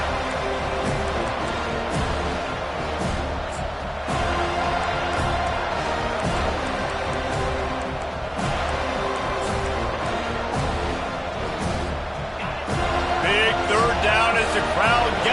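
Stadium crowd in an NCAA Football video game roars steadily behind the defense, a dense continuous wash of cheering heard under ongoing commentary voices throughout.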